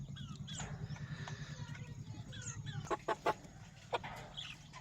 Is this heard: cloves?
no